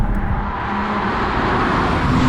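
A tuned, modified BMW 135 accelerates hard. A loud, continuous engine and road roar fills the cabin without letting up.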